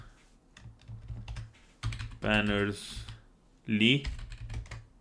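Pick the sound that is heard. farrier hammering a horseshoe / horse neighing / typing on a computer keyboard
typing on a computer keyboard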